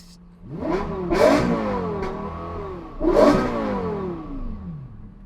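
A Lexus LFA engine revs hard twice, each blip rising sharply to a high, screaming pitch before falling away, loud and close with no talk.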